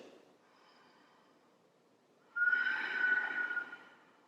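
A slow, airy yoga Ujjayi breath through a narrowed throat, rising into a loud rushing, ocean-like exhale with a hoarse, wave-like texture, close up and alone.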